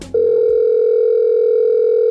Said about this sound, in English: calling this number Eye for an Eye will unlock Zombie Lynn